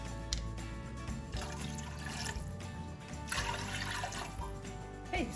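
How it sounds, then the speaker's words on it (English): A cup of water is poured into thick char siu pork sauce, a continuous splashing, gurgling pour lasting several seconds, fairly faint and alone. "I am gonna go ahead and add a cup of water"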